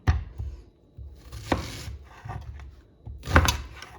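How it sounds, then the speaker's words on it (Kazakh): Knife chopping onion on a board, a few irregular thuds and cuts with pauses between, close by. "Пиязды мен алдын ала"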